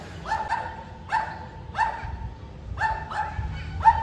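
A dog barks near a bike service centre in Bangalore, with several sharp barks in small bursts, some paired with a yip, repeated at moderate loudness with no voices over them.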